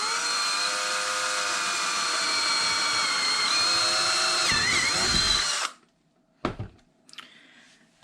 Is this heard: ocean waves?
no